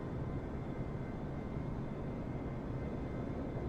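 Twin engines of a Diamond DA42 aircraft in Microsoft Flight Simulator, a steady deep rumbling drone, continuous and even, with no talk over it.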